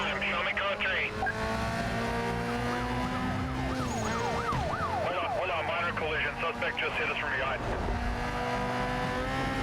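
Police sirens wail in the Need for Speed Most Wanted racing game, rising and falling over a steady engine drone with car noise throughout, while someone talks over the chase.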